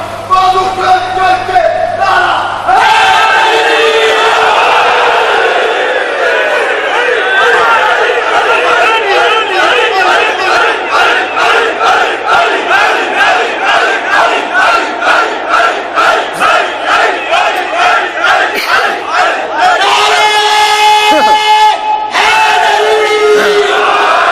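At a religious gathering, a large crowd shouts a slogan back in rhythmic, repeated bursts after a leading voice, the loud chant pulsing steadily with brief louder swells near the start and end.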